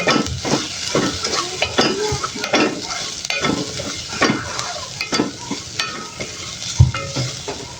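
Garlic and onion sauté in a dry pan with no oil, with a continuous sizzle broken by frequent rhythmic scrapes of a spatula against the metal, close and clear, with no voices.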